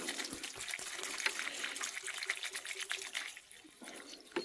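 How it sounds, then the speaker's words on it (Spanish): Water poured into the soil of a potted palm until it drains through the pot's holes: a steady close splashing, trickling pour lasting several seconds, easing slightly toward the end. "Hay que echar agua hasta que salga por los agujeros de drenaje, en el caso de que esté en maceta"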